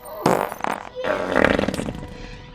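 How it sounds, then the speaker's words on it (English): Fart sounds from a scene in the vampire movie Blade: a quick burst of two or three loud, raspy blasts followed by a longer, sputtering rumble, close and prominent with no talk over them. "There's a lot of farts in this scene."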